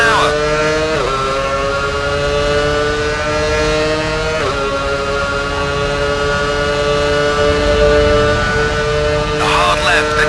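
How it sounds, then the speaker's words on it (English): A Formula 1 car in F1 Championship Edition screams at full power down a straight at about 340 km/h, its high engine note holding steady and loud with brief dips at gear changes, heard close throughout. "Powering hard along the straight, 340 kilometers an hour."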